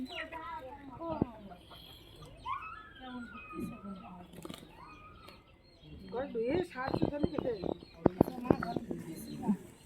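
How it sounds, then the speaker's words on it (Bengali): Chickens squabbling in a Bengali home, with scattered clucks and squawks that build into a busier, louder flurry of calls near the end, while people talk nearby. "তখন থেকে মুরগিগুলো আমাদেরই খেলা করছে যাকে বলে মুরগি লড়াই"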